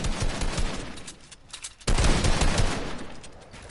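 Dense, continuous automatic gunfire fills a shooting video game match, loud and up close, dipping briefly before a heavy new burst of shots resumes.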